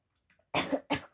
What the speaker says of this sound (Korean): 기침해서 미안합니다.